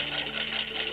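A 1935 Singer 15-88 treadle sewing machine runs quietly and smoothly, a steady close whir with a soft rapid mechanical purr that holds even throughout.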